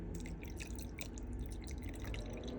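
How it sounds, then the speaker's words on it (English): Water poured into a blender jar holding sea moss, a steady close splashing trickle with dripping textures lasting a couple of seconds, no voices. "So I pour my water."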